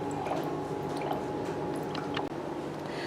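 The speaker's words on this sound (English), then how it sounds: "When the water is full inside, it will come out from the overflow hole." Pure water spilling from the overflow hole of a BRG80-4S cryo RF cavitation machine, a faint continuous trickle with soft drips and squishy gurgles, close and quiet with no talk.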